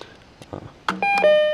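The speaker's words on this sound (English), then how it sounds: "So I've used the buzzer set in these demonstrations before" A few short taps and clicks, then electronic beeps ring out from a classroom quiz buzzer set, ending in a sustained bright tone.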